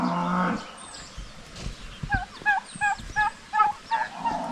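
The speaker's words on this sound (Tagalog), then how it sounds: "Yung mga pato. Paborito nila pag may ulan." A flock of ducks quacks in a quick run of repeated calls in the rain, close and fairly loud, with some softer rustling underneath.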